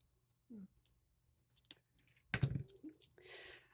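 Needle nose pliers snip wire for an evergreen wreath, giving a few sharp, close clicks and snaps amid faint rustling of greenery in a quiet room.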